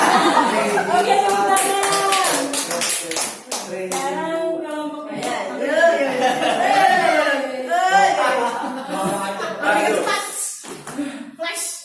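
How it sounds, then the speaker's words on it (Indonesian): A group claps hands during a classroom-style session, scattered bursts of claps heard beneath steady talking, chatter and light laughter. "tepuk tangan"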